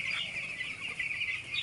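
Poultry chickens in a flock give a continuous chorus of clucks and trills, fairly close and steady, with no voices.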